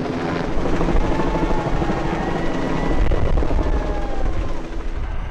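A helicopter in Utah recovering NASA's asteroid sample capsule drones loudly and steadily, its rotor and engine noise filling the whole stretch without pause.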